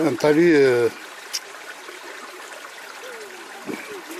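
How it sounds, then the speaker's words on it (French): Spring water gushing from a river-eroded bank near Ouadhias makes a soft, steady rushing wash that continues after a brief burst of speech at the start. "C'est une source qui jaillit sur un talus"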